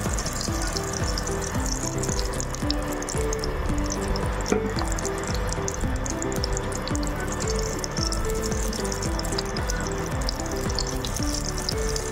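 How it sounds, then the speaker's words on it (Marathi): Chopped onion and grated coconut roast in a few ladles of hot oil with a steady, even sizzle and crackle that stays constant at close range throughout. "मी 2-3 पळ्या तेल टाकलंय, त्याच्यात आपण हे भाजून घेऊया"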